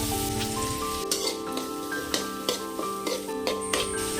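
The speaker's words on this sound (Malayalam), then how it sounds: "അരിഞ്ഞു വെച്ചിരിക്കുന്ന സവോളയും പച്ചമുളകും ഇട്ട് വഴറ്റി കൊടുക്കണം" Chopped onions and green chillies sauté in hot coconut oil, with a continuous crackling sizzle and repeated scraping stirs and taps of a spoon at a moderate level.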